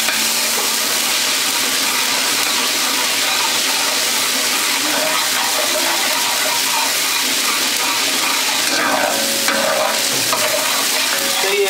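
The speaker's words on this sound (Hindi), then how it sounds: "इसको भूने ताकि इसका कच्चापन खत्म हो जाए।" Biryani masala fries in a pot, giving a loud, dense, continuous sizzle and hiss that lasts the whole stretch, with stirring scrapes mixed in close up and no speech.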